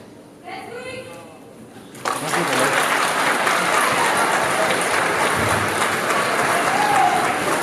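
A conference audience at the Polymanga 2016 convention breaks into loud, sustained applause that starts abruptly and continues steadily, after a brief stretch of quieter sound.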